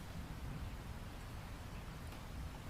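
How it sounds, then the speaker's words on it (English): Steady, rhythmic rain drums on a wooden cabin in a rainstorm, a soft, even wash of drops that holds at a constant low level with no voices. "The rain, steady and rhythmic."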